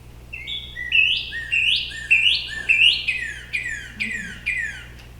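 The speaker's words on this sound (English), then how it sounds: "Northern cardinal." A northern cardinal sings a clear series of about eight loud, repeated downslurred whistles in steady rhythm, close and alone against quiet background hum.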